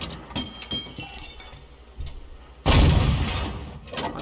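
A tank gun firing in a World of Tanks match with a VK 28.01, heard as a sudden heavy blast near the end after quieter clinks and faint distant thuds.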